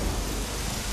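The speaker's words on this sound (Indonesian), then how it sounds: "Lihat hujan ini." Rain falls steadily as a dense, even hiss with a low rumble beneath it, loud and continuous, with no voices.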